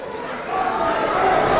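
A crowd at a wrestling show in the Irving Convention Center, Texas, makes a diffuse murmur that swells louder after the first half second and stays high, with no distinct cheers or words.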